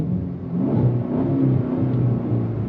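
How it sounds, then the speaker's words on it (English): A 2025 Cadillac CT5-V Blackwing Precision's V8 engine revs under throttle, a deep steady rumble that rises and swells through the gears, heard from inside the car with no talking. "I love the sound of this V8, man."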